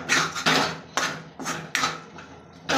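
Moong dal roasting in oil in a pan, stirred with a metal spoon that scrapes and clinks against the pan in five or six distinct strokes, close and moderately loud, with no talk.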